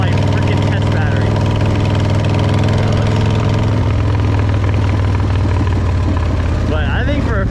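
A 1999 Buell X1 motorcycle runs with no muffler, a loud, raw, steady engine roar close by that holds throughout, with a voice talking over it.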